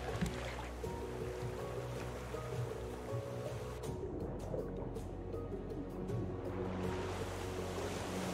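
Ocean water and waves in the survival video game Raft, a constant rushing surf and sloshing wash with gusty wind noise, steady and fairly close, without talk.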